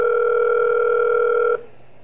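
Phone ringing in the video game Those Nights at Wario's 3, a steady electronic two-tone telephone sound held clear and loud, then cut off abruptly.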